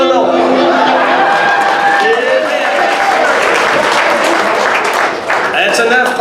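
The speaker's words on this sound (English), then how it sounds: "That's enough clapping now." A crowd at a bluegrass music show claps and applauds loudly and continuously, with cheers and voices mixed in throughout.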